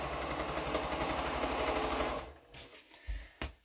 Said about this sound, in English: And sew this together